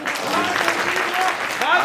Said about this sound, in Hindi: एक बार तालियां बजा दे आप